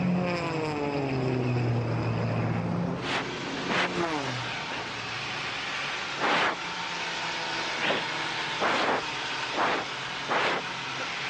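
Onboard a Red Bull Air Race plane with a Hartzell propeller, the engine drones loud and steady throughout while a commentator talks over it and the pitch sweeps briefly.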